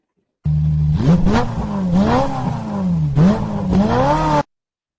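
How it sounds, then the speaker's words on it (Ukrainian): A car engine revs up twice, its pitch climbing and dipping in loud, close bursts of acceleration. "Правильно, автомобіль."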